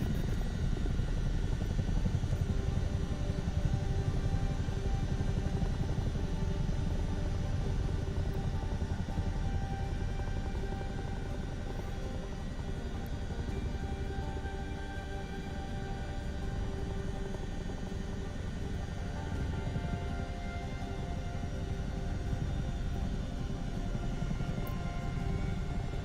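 A helicopter in Microsoft Flight Simulator 2024 runs with a steady, loud engine and rotor drone that holds an even rumbling tone throughout, without pauses or voices.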